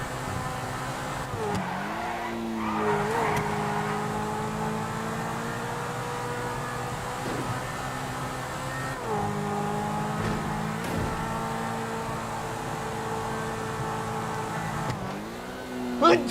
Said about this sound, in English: we got a pretty sick car